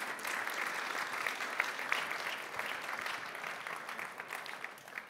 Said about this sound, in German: Großen Applaus für Sie